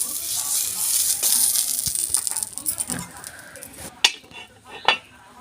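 A metal tawa griddle clatters and scrapes as it is lifted off a home stove while making patisapta, a few sharp clanks near the end after a stretch of soft rattling and faint sizzle.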